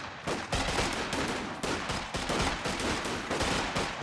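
Continuous rattling automatic gunfire and overlapping rifle shots from a Company of Heroes 2 1v1 match between German Grenadiers and US Pathfinders, loud and dense battle noise with repeated bursts throughout.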